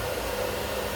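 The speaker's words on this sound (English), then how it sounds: "Once you have it in place, you're gonna turn on your blow dryer." A blow dryer switched on to dry and straighten a curly pixie cut, blasting a loud, constant close-up rush of air with no break or speech.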